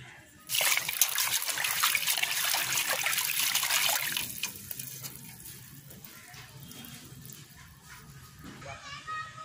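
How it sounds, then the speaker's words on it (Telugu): Bachali (Malabar spinach) leaves and curry leaves are swished and rinsed in water, giving a loud burst of splashing and trickling over the first few seconds that then settles into quieter dribbles and drips. "ఇప్పుడు ఈ బచ్చల కూరను వాటర్లో క్లీన్ చేసి ఎండలో ఎండబెట్టుకుందాం"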